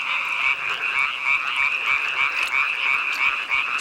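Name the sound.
tree frogs croaking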